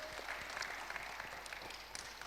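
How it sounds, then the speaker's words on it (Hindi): Applause for a district official from an audience at a Haryana news stage event on coronavirus awareness, a faint, steady patter of clapping from a crowd throughout. "तो एक बार जोरदार तालियां यहाँ पर डीसी साहब के लिए बजा दीजिए।"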